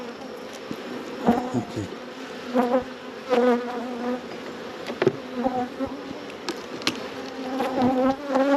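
Honey bees buzz around an open hive during a June inspection, a steady close hum with individual bees whining past in louder swells, and a person speaks briefly.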